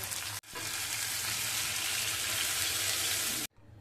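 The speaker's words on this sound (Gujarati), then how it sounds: "આદુ મરચુંની પેસ્ટને આપણે સારી રીતે તેલમાં સાંતળી લેશું" Steady, loud sizzling of ginger-chili paste frying in hot oil for kadhi, with a brief break near the start and an abrupt stop near the end.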